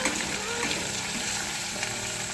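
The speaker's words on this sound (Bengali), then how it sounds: "পেঁয়াজটাকে আমি হালকা নাড়াচাড়া করে নেব।" Chopped onions and green chillies fry loudly in a pan for chana masala, a dense, crackling sizzle with stirring scrapes running throughout before it cuts off.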